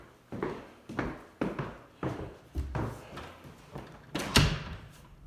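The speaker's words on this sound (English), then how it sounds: "So the door latches nicely," An interior door in a house is latched and opened repeatedly, giving a string of sharp clicks and knocks at close range with short gaps between them, followed by one louder thud near the end.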